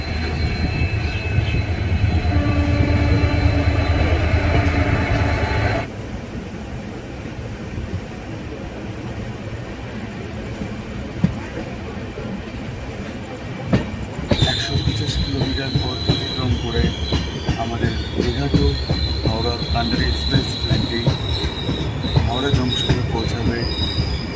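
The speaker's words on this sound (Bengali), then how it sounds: "আমাদের এই কান্ডার এক্সপ্রেস ট্রেনটি এসে দাঁড়ালো সাঁতরাগাছি জংশন স্টেশনে" The Kandari Express pulls into Santragachi Junction station, wheels squealing and screeching over a loud, continuous rolling rumble of railcars that shifts in character partway through.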